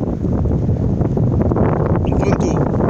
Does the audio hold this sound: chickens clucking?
no